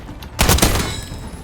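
A burst of SMG fire in a shooter video game, a loud dense volley of rapid shots starting about a third of the way in and decaying into a lingering echo.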